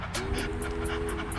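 Rhythmic panting breaths done as a breathing technique during a yoga session, a quick huffing pattern with a faint steady tone underneath, close and continuous for the whole moment.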